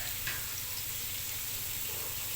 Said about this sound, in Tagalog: And then continue sauteing